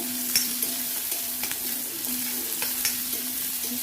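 Onions sautéing in a pan for a snake gourd seed chutney, a steady soft sizzle with occasional light scrapes and taps of a stirring spoon, close by and without talk.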